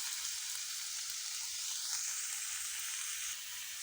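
Vegetables and chillies hit a hot pan with spinach already wilted inside, giving a steady, loud, close sizzle that runs unbroken throughout, with no voices.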